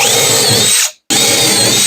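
A power drill bores into wood while a mobile ready room is being built. The close, loud, continuous whine stops briefly midway, then resumes at full strength.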